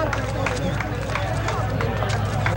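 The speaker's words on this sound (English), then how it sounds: "When the jury emerged from the courthouse, the crowd cheered, many yelling, "Good job."" A crowd cheers and clamors outside a courthouse as a jury emerges, a dense, steady hubbub of many voices with a voice speaking over it.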